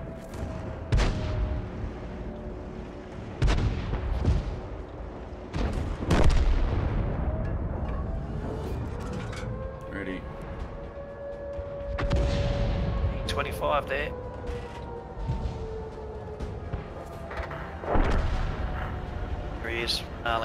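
Repeated booming shots from an S-51 self-propelled artillery gun in the World of Tanks video game, several loud blasts spaced a few seconds apart with a lingering rumble, mixed with people talking.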